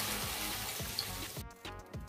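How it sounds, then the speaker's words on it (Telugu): Water is poured into a hot pan for Yippee noodles, a loud hissing sizzle that rushes steadily, then cuts off abruptly and drops to a quieter bubbling, close and alone. "వాటర్ వేసేస్తున్నాను"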